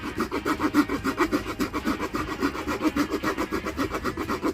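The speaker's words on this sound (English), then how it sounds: "Just gonna trim that down a little bit so I don't have to saw through so much." A Leatherman multi-tool saw cuts through oak wood in quick, even back-and-forth strokes, a steady rasping rhythm heard up close with no talking.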